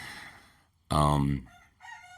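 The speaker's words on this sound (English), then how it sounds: "Hear the roosters crowing" A rooster crows loudly nearby, then a fainter crow follows right after.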